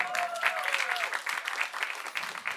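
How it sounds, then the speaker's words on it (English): Audience applause at an annual arts academy showcase in a hall, steady clapping throughout with a brief tonal sound early on, moderately loud and continuous. "So a big round of applause to everybody here."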